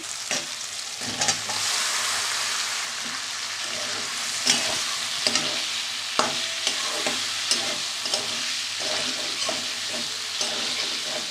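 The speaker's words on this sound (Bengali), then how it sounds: "মশলাটা কষানো হয়ে গেছে, এবার আলু আর গাঁটিটা দেব" Boiled potatoes and taro stolons go into a pan of fried spice paste and are stirred, giving a steady close sizzle with irregular scraping and clattering strokes and no talking.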